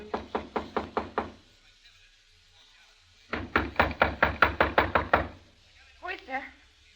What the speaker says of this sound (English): A few seconds later, I knocked on the door.